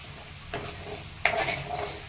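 Cumin, mustard seeds, garlic and green chili sizzle in hot oil for a Marathi dahi kadhi, a soft steady frying hiss broken by two sharper bursts of crackle, no speech.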